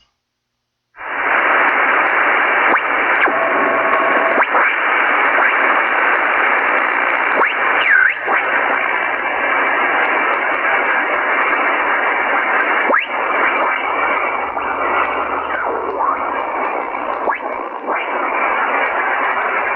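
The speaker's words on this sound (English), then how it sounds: "I'll tune around the 20 meter band to see if we hear something" Continuous loud hiss and crackle of shortwave radio static while tuning across the 20 meter amateur band after sunset, with brief swishes and faint tones from the tuning, lasting throughout without voices.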